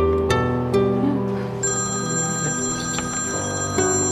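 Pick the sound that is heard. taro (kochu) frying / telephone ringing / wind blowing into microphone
telephone ringing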